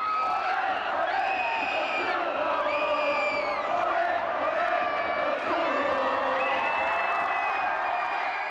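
A large football stadium crowd at a K League rivalry match roars and cheers a goal, a dense, sustained wall of shouting voices and whoops with rising calls layered over the din.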